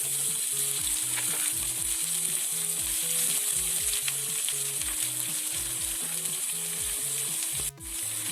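Cabbage and onion fry in a hot seasoning of spices, giving a loud, steady sizzle with rhythmic stirring scrapes throughout, ending in a brief sharp knock near the end; no one speaks.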